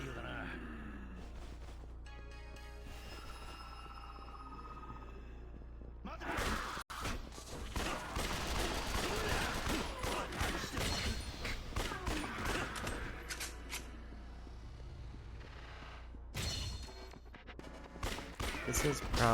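Gunfire in the video game Yakuza Dead Souls, rapid bursts of shots and impacts forming a dense, loud stretch in the middle, with someone talking over parts of it and quieter game sounds on either side.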